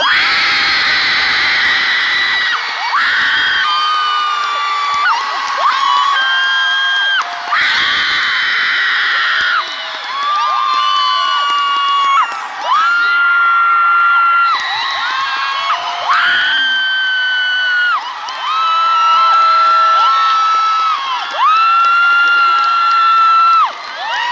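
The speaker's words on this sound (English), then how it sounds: "Standing ovation, and it hasn't even begun yet." A crowd at a Toronto book tour event screams, whoops and cheers in a standing ovation for author Rick Riordan, many high, shrill voices in loud repeated surges with brief dips between them.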